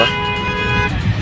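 Busy Delhi road traffic with a car horn sounding in a steady, close honk over the rumble of engines, cutting off near the end.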